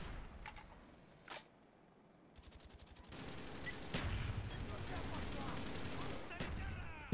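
Suppressed gunfire from a silenced weapon in the Call of Duty video game, heard as rapid bursts and single shots in a busy match, with voices talking over the action throughout.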